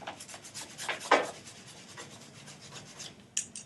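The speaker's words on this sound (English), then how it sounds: "And I use then a different brush to do the crevices." A brush scrubs into the crevices of a leather saddle, giving quick repeated rubbing strokes at close range with one sharper scrape partway through and another near the end, no talking.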